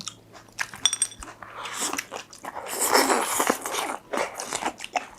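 Home-cooked meal being bitten and chewed close to the mic, with crunchy, wet mouth sounds in irregular bursts that swell in the middle of the stretch.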